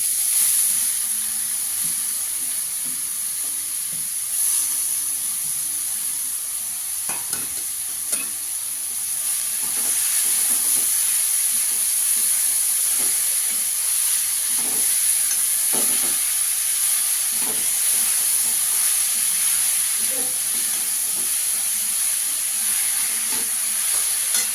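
Papaya sizzles and fries in a pan with paneer, a continuous bright hiss with scattered crackles and stirring clinks, close up, and no talking.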